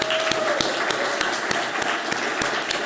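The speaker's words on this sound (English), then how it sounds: "our panelists deserve also a round of applause" A round of applause for a conference panel, with steady clapping from an audience across the whole stretch.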